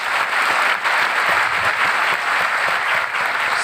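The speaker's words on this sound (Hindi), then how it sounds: "इनके लिए एक बार तालियां बजाइए" Steady, dense audience applause at a business-building seminar in Varanasi, a full crowd clapping continuously and fairly loudly with no pauses.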